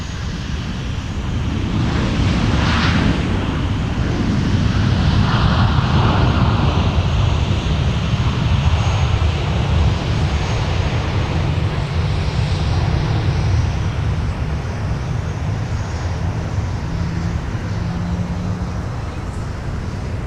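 An American Airlines jet from Dallas Fort Worth roars at MSP airport. Its engine noise stays loud and steady for about twenty seconds, a broad rumble with a faint higher whine on top.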